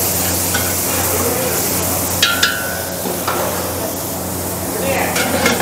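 Masala paste sizzles in oil for a military-hotel mutton curry, a steady close frying hiss with a few sharp metallic clinks of utensils and faint background voices.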